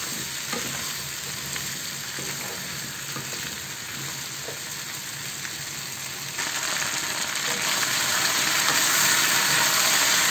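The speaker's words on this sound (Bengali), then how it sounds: "এখন এই পটলের সঙ্গে এটা আলুটাকে ভেজে নেব" Potatoes cut into long strips fry with pointed gourd in a pan, giving a steady close sizzle with occasional stirring scrapes that grows louder partway through, with no speech.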